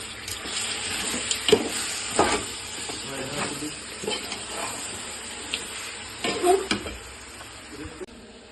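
Chicken pieces for chicken biryani sizzle and fry steadily in a pan, a continuous close hiss broken by occasional stirring scrapes, with no speech.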